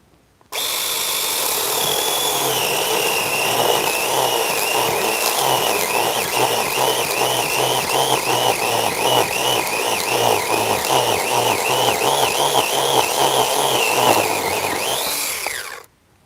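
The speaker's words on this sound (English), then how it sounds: "Man, that chainsaw makes it so easy though." A small chainsaw cutting a bonsai branch: the engine revs loudly and steadily for about fifteen seconds, rattling and buzzing as it bites through the wood, then stops abruptly.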